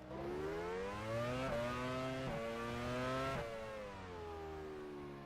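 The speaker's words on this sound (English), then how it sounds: "I swear I heard a car there go past me." A Formula 1 car engine in F1 Challenge 99-02 roars close by at the Malaysian Grand Prix, its pitch stepping through several gear shifts and sweeping as it passes, loud and steady with no talking.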